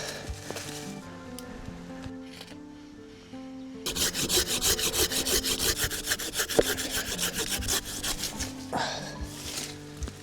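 A handheld outdoor saw cuts through wood with fast, rhythmic rasping strokes, close and loud after a quieter start with faint handling noises, each stroke a sharp scraping burst in a regular back-and-forth rhythm.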